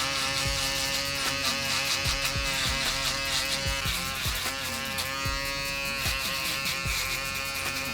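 Barber's electric hair clippers (a balding machine) blend a fade on a client's head with a continuous close buzzing hum, its pitch dipping briefly and repeatedly as the blade passes over hair. No one talks.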